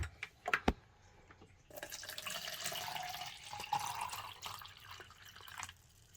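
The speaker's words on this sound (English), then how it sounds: "Let's get some water in there." After a couple of sharp taps, water pours into a glass with electrolyte collagen drink mix, a steady close splashing fill lasting a few seconds before tapering off.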